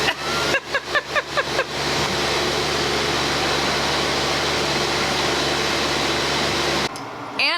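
A truck engine idles loudly near a craft brewery in Richmond, Virginia, opening with a series of rhythmic mechanical pulses before settling into a steady, droning hum that cuts off abruptly near the end.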